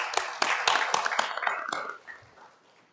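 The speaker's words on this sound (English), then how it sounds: "Give him a round of applause." Short burst of applause at a board meeting, a few people clapping in quick bursts for about two seconds before fading out.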